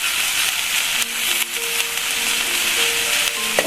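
Okra chutney ingredients fry in a pan with rock salt, giving a steady, close sizzling hiss with occasional faint pops and scrapes throughout.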